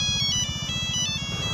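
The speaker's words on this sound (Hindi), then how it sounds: "तेरे मोबाइल में फोन आ रहा है, स्पीकर पे रखो" A mobile phone rings with an incoming call, its loud, close, electronic melody sounding alone in quick repeated notes over a buzzing low pulse.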